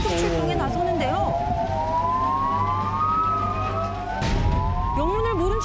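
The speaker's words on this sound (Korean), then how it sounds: "갑자기 이때 사이렌이 울리자 전 대원이 긴급 출동에 나서는데요" A wailing emergency siren sounds for a fire brigade dispatch during a wildfire-suppression drill in Gyeongju, Korea, rising and falling in long sweeping cycles, loud and nearby, with a vehicle engine rumbling underneath.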